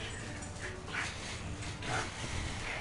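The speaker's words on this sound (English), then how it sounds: "The dogs are very playful right now." Playful dogs in a room during a Binding of Isaac game session, giving a few short yips and whimpers over a steady background hum, with no talking.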